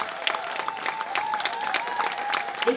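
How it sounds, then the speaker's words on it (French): Audience applause at a Montreal tribute event honouring women, a steady wash of clapping from a crowd over an ongoing tone, with a few voices faintly mixed in throughout. "je vous demande un banc d'applaudissements pour toutes les femmes qui sont ici"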